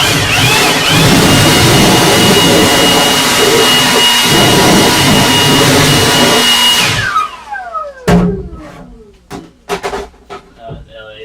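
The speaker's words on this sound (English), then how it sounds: "Grab the blower real quick." Leaf blower running loud and steady for about seven seconds while stripping a vehicle interior, then cutting off, followed by scattered clunks and handling noises.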